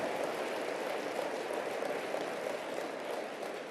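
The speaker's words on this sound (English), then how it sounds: "Give yourselves a round of applause." A large crowd at a motivational speaking event applauds in a continuous, even roar of clapping that holds steady without pause throughout.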